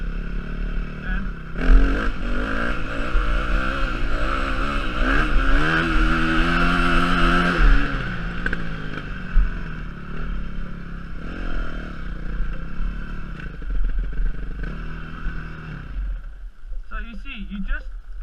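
A dirt bike engine revs hard while a rider pulls a wheelie, loud and steady with a surging peak before easing off into a lower, rougher idle and some clatter near the end.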